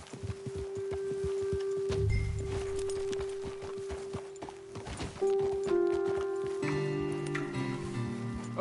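Horses walk with steady, overlapping hoof clip-clops in the Red Dead Redemption video game, close and continuous throughout, with a low rumble and faint background game ambience.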